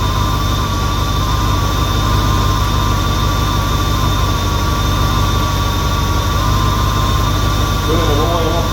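A 1971 Lincoln engine with an exhaust leak runs steadily, a loud, continuous low rumble with a constant hiss and a faint whine on top, unbroken for the whole stretch.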